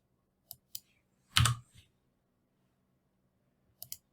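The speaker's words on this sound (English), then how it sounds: "just by clicking in the center of those boxes" Computer mouse clicks while using Vectorworks 2022 design software: two quick clicks, one louder cluster of clicks, then two more at the end, crisp and close against a quiet background.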